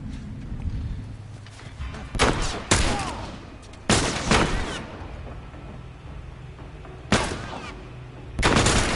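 Sniper rifle shots in The Last of Us, four or five sharp, loud blasts spaced unevenly over several seconds, each cracking out over a low ambient rumble.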